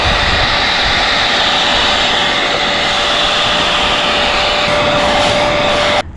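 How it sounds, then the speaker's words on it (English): Steady, loud, whining roar of a vacuum sucking up dirty shampoo foam from a Pontiac Grand Prix's carpet during restoration, running continuously close by before cutting off at the end. "I'm actually going to vacuum this up just so we don't end up putting that dirt back in the carpet"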